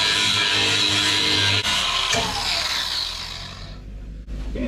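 A flap disc on an angle grinder grinds rust off the body of a 1978 K5 Blazer, a loud, continuous abrasive whine that shifts in pitch as pressure changes, then winds down near the end.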